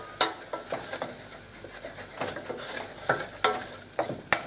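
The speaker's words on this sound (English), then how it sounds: "stir that around" Flour being stirred into onions frying in a pan, with repeated scraping strokes over a soft sizzle, close and fairly quiet, no talking.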